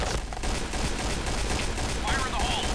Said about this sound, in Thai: นี่มียิงระยะไกลหัวแตกครับ